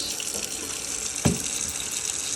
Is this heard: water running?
yes